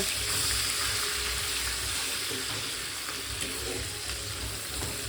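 Half a medium onion frying in oil in a pan for a chicken dish, a dense continuous sizzle with a low rumbling hum underneath, steady throughout and without talk.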